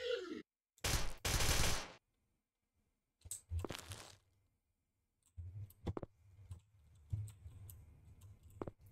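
Video game gunfire, bursts of sharp shots and clicking separated by silent gaps, loud at first, then scattered lighter pops and clicks, no talking.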